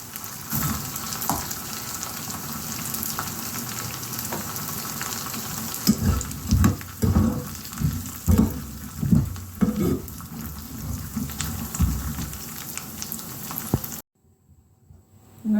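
A spoonful of cumin seeds and roasted and white split dal fry in hot oil with a dense, close sizzle, broken midway by louder scraping stirs, before the sound cuts off into near silence at the end.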